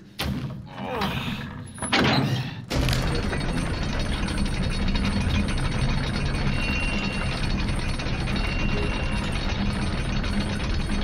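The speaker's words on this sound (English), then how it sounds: "Open up, doors." Heavy doors in the Resident Evil Village video game open with a mechanical ratcheting and grinding of gears, a few clunks at the start giving way to a loud, steady churning that runs on alone.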